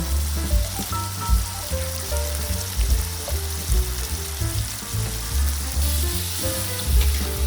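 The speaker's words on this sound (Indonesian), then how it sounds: "Setelah bumbu dihaluskan, kita tumis bumbunya" Ground spice paste with bay leaves sautéing in a wok, a loud continuous sizzle broken by stirring scrapes and clinks, close up with no talking.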